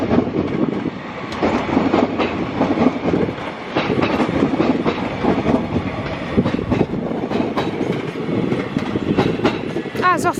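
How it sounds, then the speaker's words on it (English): A Class 331 electric multiple unit, 331018, pulls out of Crewe station toward Manchester Piccadilly, a continuous loud rumble with clattering wheels and brief squeals near the end. "As here is 331 making its way to Manchester Piccadilly from Crewe."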